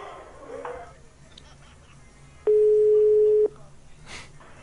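A single steady telephone tone, the busy signal after the other party hangs up on an Italian radio prank call, sounds alone for about one second against a quiet, faintly noisy line.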